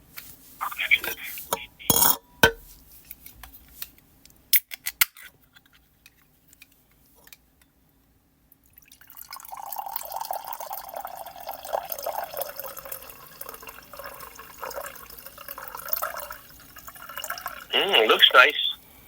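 A can of red wine blend is opened with sharp metallic clicks, then poured in a bubbling, gurgling stream after a quiet gap.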